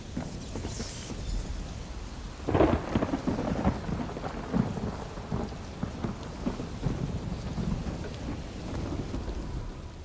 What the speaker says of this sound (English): Have some lightning! You want more lightning? I have plenty to go around!